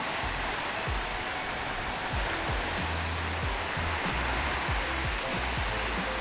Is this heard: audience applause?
no